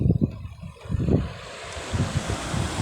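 Wind blowing outdoors by a roadside, gusting and rumbling against the microphone in uneven bursts, with a steady airy background hiss throughout.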